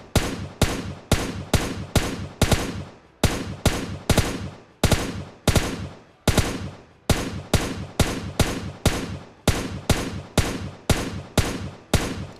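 M4 rifle shots in PUBG Lite, a long steady series of single or paired loud cracks at an even rhythm, each with a short decaying tail, close and clear with no speech.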